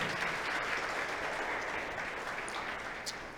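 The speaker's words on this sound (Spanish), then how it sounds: "Dale un aplauso a los principios de Dios" Steady applause from a church congregation during a Spanish-language sermon, a dense even wash of clapping at moderate distance that fades slightly toward the end.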